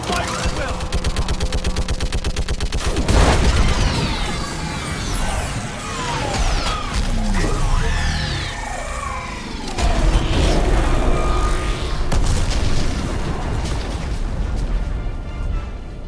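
Orbital strike explosions boom amid sustained gunfire and machine-gun bursts in a Mass Effect 3 battle against a live Reaper, loud and continuous, with heavy impacts near the start and again partway through.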